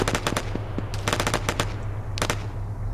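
Rapid automatic gunfire from Arma 3 comes in several loud, close bursts of sharp cracks, with brief pauses between volleys over a steady low background rumble.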